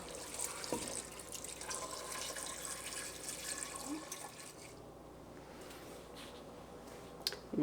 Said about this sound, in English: we're going to put our potatoes now in our pot, and we're going to cover them with cold water